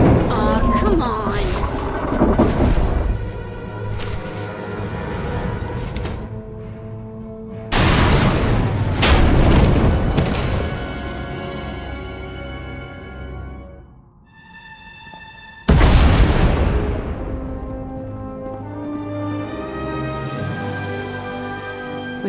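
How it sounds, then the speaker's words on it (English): Heavy explosions in the Star Wars: The Old Republic game collapsing a tunnel, three big booming blasts each decaying into a long rumbling roar over a low sustained drone, loud and close. "We heard explosions. The tunnel collapsed."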